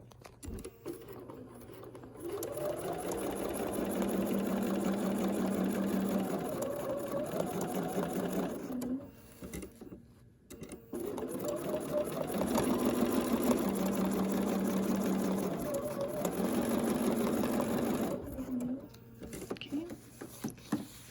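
A sewing machine runs in two long stitching bursts across a quilt, steady rapid whirring with brief pauses between, while a person talks over it.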